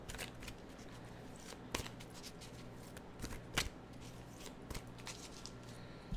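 Quiet, close riffling and flicking of an oracle card deck, with soft papery bursts and a few sharper snaps.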